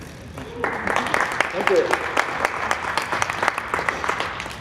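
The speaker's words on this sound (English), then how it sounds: "It's okay to clap your hands if you like a trick." A live audience claps loudly for a magic trick at a New Year stage show, steady dense applause filling the moment, with a performer briefly speaking over it.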